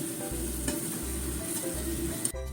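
Cabbage sizzles loudly in olive oil in a hot pan, with stirring scrapes and clinks across a short, busy stretch.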